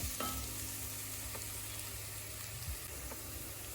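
Garlic and ginger fry gently in a pan, making a low, even sizzle with occasional faint stirring clicks, close by and fairly quiet.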